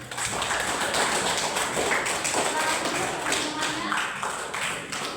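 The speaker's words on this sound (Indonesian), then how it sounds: "Tepuk tangan untuk kita semua" Classroom applause from a group of seventh-grade students, dense steady clapping that fills the room for several seconds while a teacher's voice briefly speaks over it.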